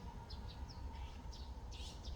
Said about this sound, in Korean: 녹색이 짙푸른 숲속에서는 참새들의 소리와 여러가지 새들의 소리가 아름답게 울려 퍼지며 우리를 반겨주고 있습니다